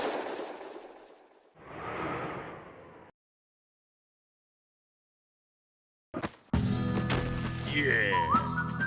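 A single sharp gunshot cracks out in the Nintendo Switch game 1-2-Switch's quick-draw duel. It comes after voices and a silent pause, and is followed at once by loud, busy game sounds.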